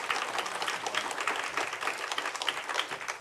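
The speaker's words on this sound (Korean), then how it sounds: "뜨거운 박수로 우리가 환영한다라는" An audience at a church summer retreat lecture gives a welcoming round of applause, a faint, steady patter of many hands clapping throughout.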